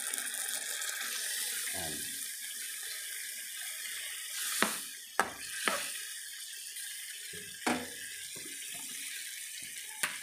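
A quarter cup of water poured into a cooking pot for Filipino beef kinamatisan, a short splashing trickle followed by scattered clanks and taps of utensils against the pot, with one brief spoken word.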